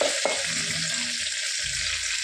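Fenugreek leaves and coriander leaves frying in hot oil, a steady soft sizzle with a few stirring clinks and scrapes, close and fairly quiet.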